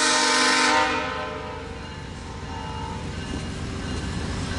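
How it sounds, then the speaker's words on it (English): A loud VIA Rail train 87 horn blasts for about a second as a person crosses in front of it, then fades into the low rumble of the passing train. "I got the honk because that person crossed in front of them."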